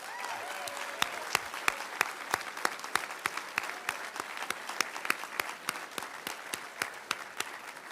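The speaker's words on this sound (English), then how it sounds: "Why don't we all give the Bai family a round of applause" Moderately sized crowd applauding the Bai family at a political event with Senator Todd Young, sharp individual claps standing out over a steady wash of clapping, fairly distant and even.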